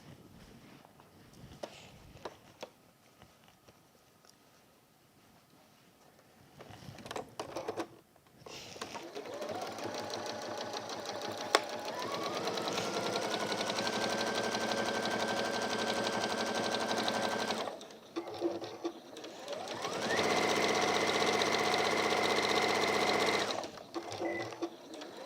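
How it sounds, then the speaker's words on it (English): A sewing machine top-stitches a tool belt in two long, steady runs of close, rapid mechanical chatter, separated by a brief pause and preceded by quiet handling noises. "And hey, if we're sewing, why not top stitch?"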